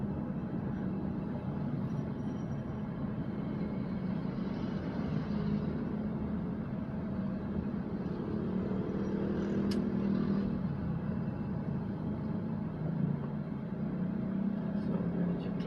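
Steady street traffic in Lingayen, Philippines, a continuous low rumble of vehicles passing at moderate distance, with no clear voices over it.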